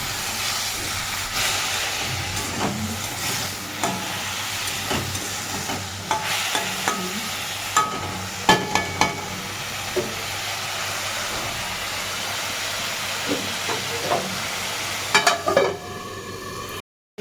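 Katla fish curry with turmeric is stirred in a hot pan, giving a continuous hissing sizzle with intermittent scraping and clattering strokes of a spoon, moderately loud and near, with no talking.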